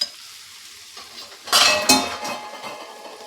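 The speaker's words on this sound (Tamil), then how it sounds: "இப்போது நம்ம பன்னீர் சங்க்ஸை போட்டு மிக்ஸ் பண்ணிடலாம்." Paneer chunks are tossed into a pan of sautéed masala and stirred, a short clatter of spoon against pan with brief frying hiss that swells in two close bursts after a quiet start.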